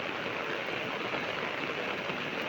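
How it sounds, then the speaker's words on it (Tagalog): A heavy downpour roars close by near a house, constant and loud, a thick broadband wash of rain with no talking. "Ayan, super lakas yung ulan"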